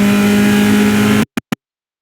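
Race cars on the VIR North circuit, engine drone loud and steady with a strong tonal hum, then cutting out abruptly into silence broken by two brief bursts.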